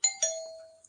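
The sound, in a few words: doorbell ringing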